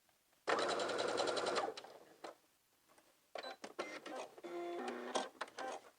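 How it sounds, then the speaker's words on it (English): A sewing machine bastes fabric at its longest stitch, running in a loud sustained burst, pausing, then stitching again in shorter uneven runs, close by with no talking. "set your machine to the longest stitch, and no back stitch when you're basting. So go ahead and sew from one end to the other"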